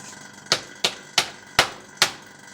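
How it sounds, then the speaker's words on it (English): A transmission shift solenoid from a Ford Ranger is smacked against a workbench, giving six sharp, evenly spaced knocks close by with no talking. "Smack it on the bench a couple of times."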